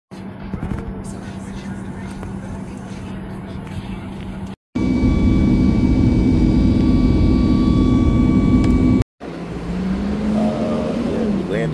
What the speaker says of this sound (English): This is the Washington Dulles Airport